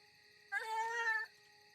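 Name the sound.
angry cat growling before attacking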